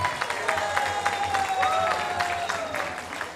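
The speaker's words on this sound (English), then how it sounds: "let's give him a round of applause" Audience applause at a kirtan night at Bhaktivedanta Manor, dense steady clapping from a crowd, moderately loud and continuous throughout, with faint background murmur.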